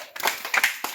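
A women's group at a farm school plays a clapping game, with several sharp hand claps in quick, uneven succession, close and clear.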